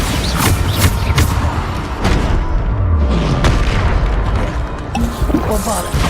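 Bombarda spell explosions go off during a Hogwarts Legacy combat fight. Heavy booms and thuds land repeatedly over a busy backdrop of battle noise, with a voice speaking at moments.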